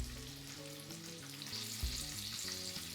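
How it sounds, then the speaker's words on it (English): Gluten-free chicken pieces frying in hot oil on a home stove, a steady bright sizzle and crackle running throughout with low background hum, one brief louder pop near the middle, no voices. "make both sides fry until they get that lovely brownish color, goldish color look."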